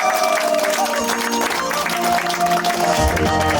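An audience claps steadily through a Nooruz celebration in Kyzyl-Aryk, a continuous wash of applause layered with music and a crowd murmur, loud and close throughout.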